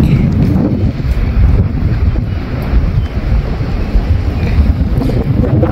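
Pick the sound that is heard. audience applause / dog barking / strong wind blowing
strong wind blowing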